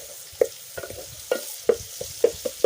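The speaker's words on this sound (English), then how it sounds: "I'll saute the onions and then mix." Onions sautéing in cooking oil, stirred with a utensil that scrapes the pan in a handful of sharp, irregular strokes over a quiet, faint sizzle; no talking.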